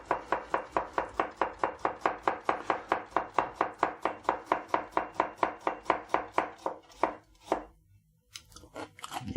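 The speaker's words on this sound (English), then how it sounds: "I cut the carrot in half before I cut it up in slices" A knife chops a halved carrot into slices on a cutting board, a fast, even series of about thirty sharp crisp thuds, close and loud, then a brief pause and a few scattered knocks.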